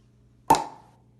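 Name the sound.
pop gun imitating bottle opening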